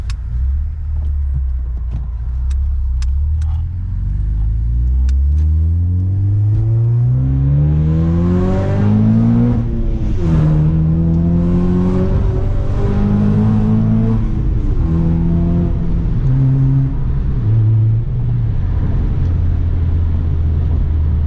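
2004 Acura TSX with a 3-inch Vibrant full exhaust revving repeatedly, deep rising and falling engine tones heard up close with several sharp throttle blips across the stretch.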